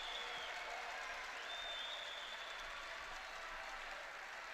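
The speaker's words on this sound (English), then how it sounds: "the applause in the arena is for a Serbian fighter, Magomedov" Applause from spectators in a boxing arena during an amateur boxing quarterfinal, a faint, distant and continuous wash of clapping with no clear individual claps standing out.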